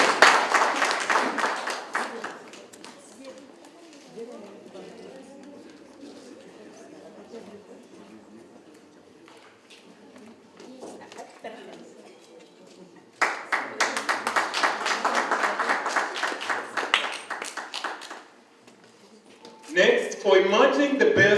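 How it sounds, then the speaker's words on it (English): Audience applause at a business festival awards ceremony, breaking out in loud bursts of clapping between stretches of quieter hall sound and murmur, with a strong final burst near the end. "A round of applause to CPE."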